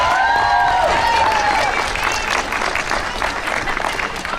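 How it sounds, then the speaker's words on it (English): Crowd applauding the organizers at a March for Our Lives rally, a loud sustained outdoor round of clapping with some cheering and voices mixed in, holding steady throughout. "Yeah, round of applause for them."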